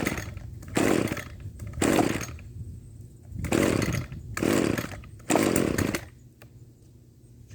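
An old Echo string trimmer engine after restoration, pulled into life in repeated loud two-stroke bursts of revving that rise and fall about five times with quieter idling gaps between.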